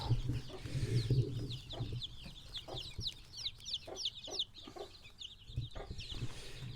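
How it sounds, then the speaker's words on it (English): Hens clucking and chirping steadily at close range, with a busy chorus of small bird calls layered over a low background hum. "I will just quickly show you some chicks my brother's got down here."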